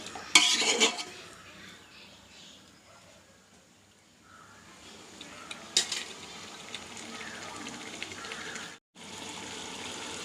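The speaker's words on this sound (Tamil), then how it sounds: "ஸோ மீடியம் அண்ட் லோ ஃப்ளேம்லேயே வச்சு நீங்கள் வதக்குங்க." Chicken and tomatoes are sautéed and stirred in a pan over a medium-low flame for biryani, giving quiet sizzling with intermittent scraping and clinks of a spoon against the pan.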